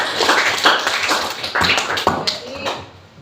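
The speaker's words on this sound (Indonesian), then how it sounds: "Tepuk tangan untuk pembelajaran hari ini." A class of children clapping together in a classroom, several quick bursts of applause in uneven rhythm, moderately loud and close.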